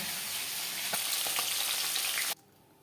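Chopped onion and tomato hiss and sizzle loudly in oil left over from frying silver carp for a capsicum fish curry, with a few small pops before the sound cuts off abruptly.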